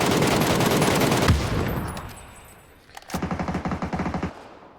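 Sustained automatic fire from an Mk14 rifle in a video game rattles loudly, then fades, followed by a second rapid burst of evenly spaced shots.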